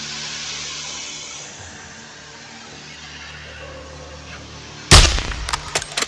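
A single sharp sniper rifle shot cracks out in a Modern Warfare 2 campaign mission, loud and sudden after a quiet ambient stretch, with brief echoing clatter following.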